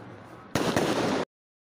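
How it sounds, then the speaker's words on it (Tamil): A Diwali firecracker goes off close by, one sharp loud blast with a short crackling burst, then silence. "அவன் மேல ரெண்டு வெடிய தூக்கி போடு"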